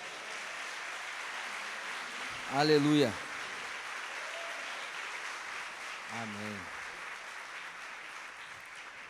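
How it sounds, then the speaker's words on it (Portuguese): Congregation clapping in a church, a soft, steady wash of applause under two brief voiced exclamations, heard from a distance at low level. "Dá uma salva de palmas."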